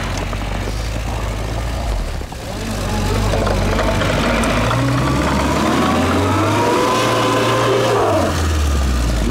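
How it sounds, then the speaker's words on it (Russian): A UAZ Patriot SUV without differential locks struggles off-road, its engine droning loudly and steadily with rising revs and spinning tires, the strain continuous throughout. "Пробует проехать Патриот без блокировок."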